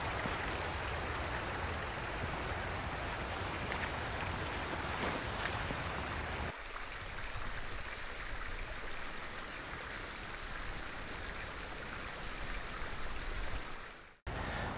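A river flowing outdoors in Canada, a steady broadband rush of moving water that stays loud and constant throughout, with no voices over it.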